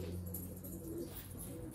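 A pet pigeon-type bird, likely a red-coloured one, coos softly and continuously at close range, a low steady murmur with no talking over it.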